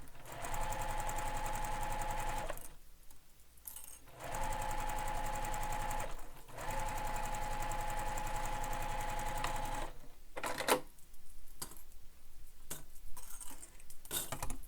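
A sewing machine stitches a backpack in three long continuous runs with brief pauses between them, followed by shorter choppy bursts of stitching toward the end.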